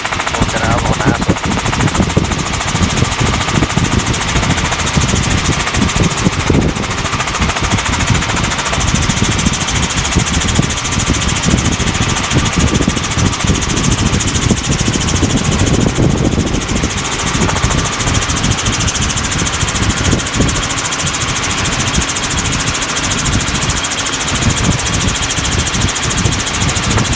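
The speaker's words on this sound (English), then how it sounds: "That's traffic helicopter 2, we got a left-hand southbound departure for Canal NASA." A traffic helicopter's engine and rotor drone steadily through flight near Cocoa Beach and Kennedy Space Center, a loud, constant close roar from the cabin with muffled talk underneath.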